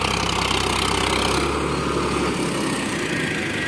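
A Farmtrac 60 tractor engine runs in a wet field, a loud, steady diesel drone heard up close with no talk, its low rumble shifting slightly partway through as the load changes.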